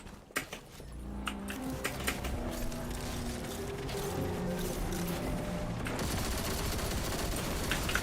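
Steady rapid gunfire from the player's weapon in a video game, a sustained dense rattle of shots over mechanical clatter running through most of the stretch, fairly quiet overall with no talk.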